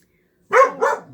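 A dog lets out two quick, loud barks close by in a quiet room, after a brief silence.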